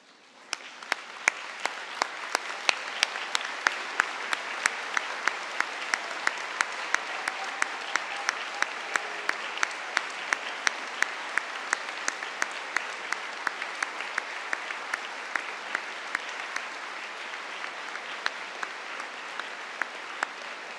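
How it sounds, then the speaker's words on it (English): Sustained applause from a large crowd of graduates at a London degree ceremony, dense steady clapping with sharp individual claps standing out, continuing evenly for the whole stretch without talk. "give them a huge round of applause"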